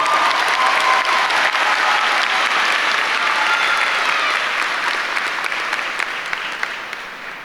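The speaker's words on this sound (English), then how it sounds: "Let's give them both a round of applause." A graduation audience at a high school commencement gives sustained applause, a dense, loud wash of many hands clapping at once that holds steady and then slowly tapers off toward the end.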